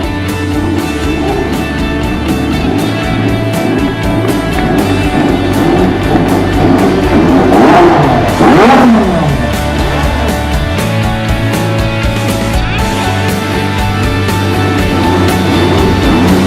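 Engine of a McLaren Mercedes MP4-28 Formula 1 car, a loud high-pitched mechanical roar with rising and falling tones, swelling to a peak midway as if sweeping past, then settling back to a steady drone.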